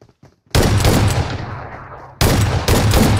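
Gunfire from PUBG on the snowy Vikendi map during a scrim match: a loud burst of automatic shots starts abruptly, rattles on and fades a little, then a second close burst hits hard near the end.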